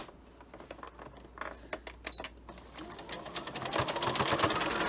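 Sewing machine stitching a fabric face mask, first in short stop-start bursts, then running fast and steady as the whirring needle rattle builds in loudness.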